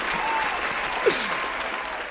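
Applause track dubbed over an interview, a steady wash of many hands clapping at moderate volume that fills the whole short stretch, with no talk on top.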